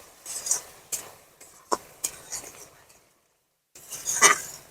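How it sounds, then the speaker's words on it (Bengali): Masala with Kashmiri chilli powder being stirred in a pan for pointed gourd, heard as a string of separate clinks and scrapes of a utensil against the pan, with a brief pause and then a denser burst of stirring. "ভালো করে মশলাটাকে কষিয়ে নেবো 2 থেকে 3 মিনিট।"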